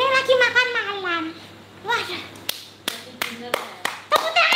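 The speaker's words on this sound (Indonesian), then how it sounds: "Tepuk tangan, semua tepuk tangan ya." A group of people claps in a family setting, sharp separate claps following excited voices and children's talk.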